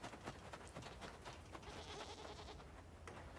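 Baby goats in the game Blanc bleat faintly and repeatedly in short calls, layered over a soft, steady background hiss.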